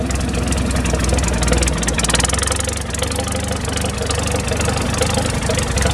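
A Farmall 400 LP tractor engine idles close by, a loud, steady low chugging with rhythmic knocking throughout.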